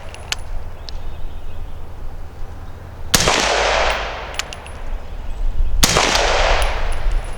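Two sharp, loud gunshots from a long-barrel AR-style rifle fired offhand at 50 yards, spaced a few seconds apart, each with a ringing tail over faint background hum.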